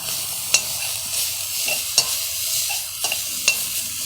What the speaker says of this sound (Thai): เราก็ใส่หมูนิดนึง หมูรวนนะคะ